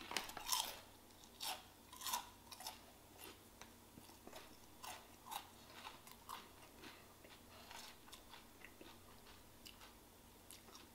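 Crunchy pork skins eaten with cucumber, a series of crisp bites and crackling chews repeating unevenly, close up and fairly quiet.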